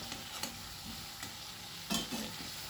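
Prawns frying lightly in a pan make a faint, steady sizzle, with a few soft clicks and one louder scrape of turning near the end. No voices are heard.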